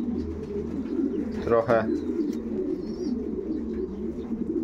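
A homing pigeon back in its loft coos in a short burst amid steady low background noise, with faint chirps later and a soft rumble throughout.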